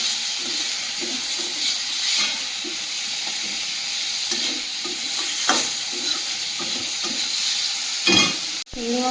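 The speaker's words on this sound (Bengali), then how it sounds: "ওই তেলের মধ্যে চিংড়ি মাছটা ভেজে নেব" Shrimp rubbed with salt and turmeric fry in hot oil in a pan, giving a steady close sizzle broken by repeated stirring scrapes and a few clinks, with no talking.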